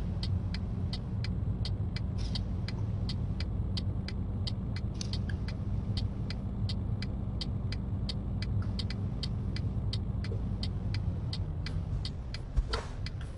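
A truck engine drones steadily while driving in the video game Euro Truck Simulator 2. It is a constant, close rumble with a regular faint ticking running through it and no talk.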